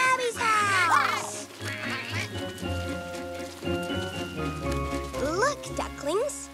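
Cartoon ducklings quack in a rainy-day children's story, with several short high calls bursting at the start and again near the end over light music and rain-like patter, while a narrator talks.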